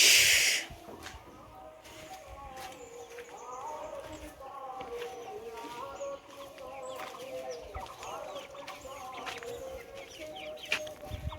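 Several chickens cluck and murmur continuously nearby as they are fed wheat grain, a busy flock chattering with occasional louder calls and a burst of noise at the start.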